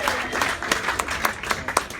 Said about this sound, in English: Gentlemen, give the ladies a round of applause.